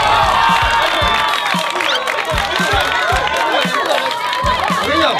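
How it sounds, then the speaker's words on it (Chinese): A crowd at an all-star sports day event cheers, shouts and claps loudly and continuously, with voices rising over the steady roar and sharp low thumps scattered throughout. "掌声欢迎谢坤达。"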